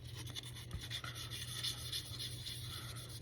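A wooden gunstock coated in spar urethane is hand-sanded in small circular strokes, giving a steady, close, soft rasping rub that pulses gently with each pass and has no talk over it.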